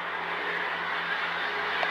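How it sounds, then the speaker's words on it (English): A lorry passes on a road near an RAF airfield, a steady broadband engine and tyre rumble at moderate distance with no clear rise or fall over two seconds. "I can hear something else. Yeah, it's a lorry."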